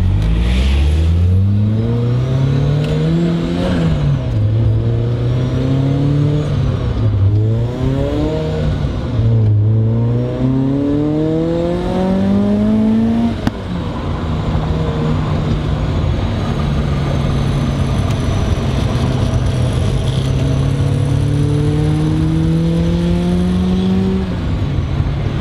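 A supercharged Mazda Miata accelerates hard around a race track, its engine note climbing again and again through the gears with sharp drops at each shift, loud and close, ending in a long sustained pull.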